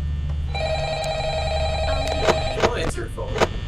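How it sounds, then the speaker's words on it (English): An old-style telephone rings with a steady electronic tone inside the Five Nights at Freddy's video game, while players talk and react over it. "Don't answer your phone."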